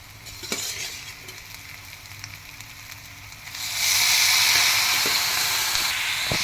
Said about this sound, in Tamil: இந்த டைம் நான் வந்து காலிஃப்ளவர் போட்டுக்கிறேன்.